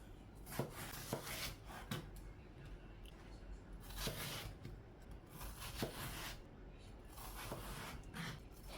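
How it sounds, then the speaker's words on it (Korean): A knife chops through firm watermelon rind on a cutting board in a series of sharp, irregular knocks and crunches, close and moderately quiet. "또각또각 수박 껍질을 잘라볼게요"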